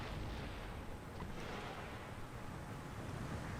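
Artillery barrage in the video game Empire: Total War, a dense, steady roar of rumbling cannon fire and blasts that holds at an even, loud level throughout with no pauses or speech.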